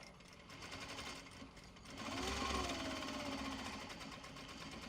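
A sewing machine stitches fabric for a small traveller sling, a rapid mechanical whirr that starts softly and grows louder and steadier midway, running continuously without talk.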